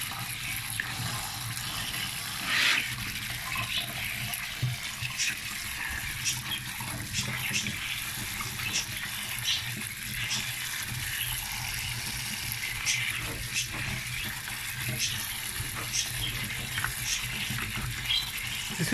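Cold water runs steadily as black olives are rinsed in colanders, a continuous splashing gush with small clinks and knocks, close and even throughout.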